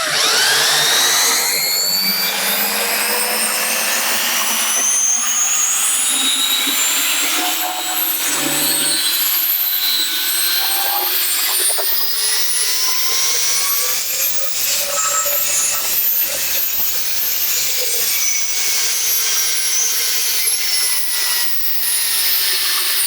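Continuous high-pitched whirring buzz of an orbital sander working against wood, steady and close, with a rough rubbing texture and no talking.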